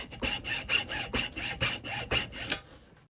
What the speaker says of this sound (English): take a thin bladed saw like a hacksaw and cut through the handle.